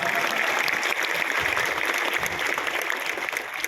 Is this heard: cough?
no